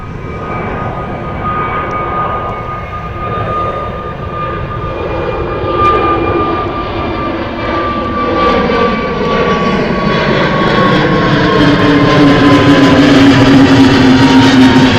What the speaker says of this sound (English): EasyJet heading off to Dubrovnik here.